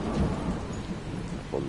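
A low rumble of thunder rolls under steady rain hiss in the video game Dying Light, a continuous stormy wash with no distinct voices.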